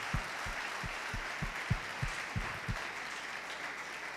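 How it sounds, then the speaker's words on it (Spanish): Audience applause for conference panelists, fairly faint and even, with a series of soft low thumps spaced about a third of a second apart running under the clapping for the first few seconds. "un aplauso porque se la rifaron los panelistas"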